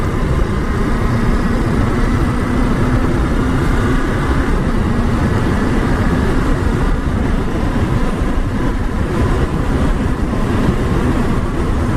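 A 2022 Ducati Monster motorcycle on a road test, its engine a steady loud drone mixed with rushing wind and road noise that never lets up.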